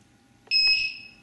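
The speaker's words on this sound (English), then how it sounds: "you'll hear the quad beep there as I change parameters" A quadcopter beeps once as its throttle, pitch and roll parameters are changed, a short, clear electronic tone over a faint low hum.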